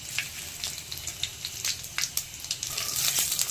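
Bay leaves and dried red chillies crackle in hot oil in a pan, a close, busy sizzle of sharp pops and spits over a soft steady hiss.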